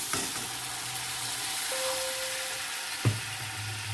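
Ginger-garlic paste frying in a pan, a steady bright sizzle throughout with a low hum underneath and a short clatter near the end, no voices.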